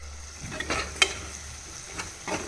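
A ground paste of chilli, turmeric, cumin and garlic fries in a pan, a low hiss broken by a few scrapes of a stirring spoon and one sharp clink.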